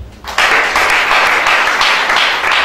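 A church congregation breaks into applause, a dense burst of clapping that starts abruptly after a brief quieter moment and then holds loud and steady to the end.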